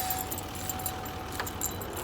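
Car keys jangling close by as a vehicle is switched off on a farm, brief metallic clinks and rattles over a faint low background hum, with no talk.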